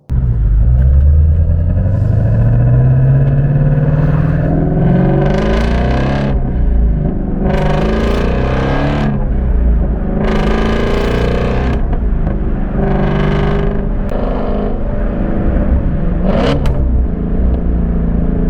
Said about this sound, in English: And now, take a listen to what a flat plane crank sounds like from Ford.